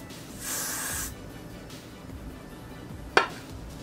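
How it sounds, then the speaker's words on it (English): Got to Be Freeze Spray Blast hair spray sprayed from an aerosol can onto a braided lace wig, one steady hissing burst about half a second long, followed by a sharp click. "So I'm just gonna go ahead and use my Got to Be Freeze Spray Blast."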